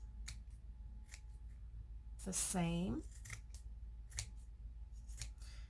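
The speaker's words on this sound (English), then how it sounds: "you want to have a pretty sharp pair of scissors in order to do your trimming" Sharp scissors snip through a lamp decoration in a few quick, faint cuts, with a brief spoken phrase in the middle.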